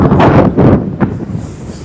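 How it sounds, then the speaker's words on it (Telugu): Strong wind at Jungle Beach near Galle Fort, Sri Lanka, buffets the microphone in loud, gusty bursts, rumbling and uneven, with no voices. "ఫుల్ గాలి వేస్తుంది కదా"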